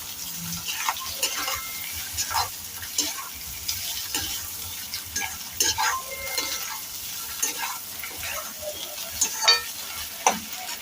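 Egg fries in a hot pan while a spoon stirs and scrapes through it, giving a soft continuous sizzle broken by light clinks and scrapes, moderately quiet throughout.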